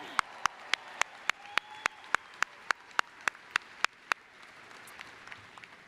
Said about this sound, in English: Another round of applause for these amazing scholars.